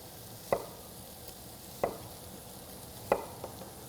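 A knife chops an apple into bite-sized pieces on a cutting board: three sharp, evenly spaced cuts about a second apart, close and clear over a faint sizzle of bacon frying in the background.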